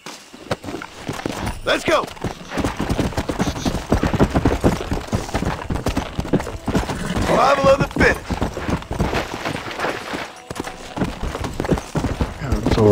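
Horse hooves clip-clop at a steady riding pace in the video game Red Dead Redemption, a continuous rhythmic drumming of hoofbeats with someone talking over it throughout.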